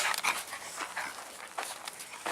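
Dogs pant in quick breathy bursts with a few soft whimpers, close to the microphone, no talking.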